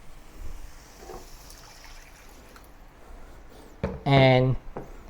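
Water goes into fragrant fried curry paste for a Malaysian chicken curry, a soft trickle under a quiet room and then a brief louder splash and sizzle near the end, with a voice briefly heard.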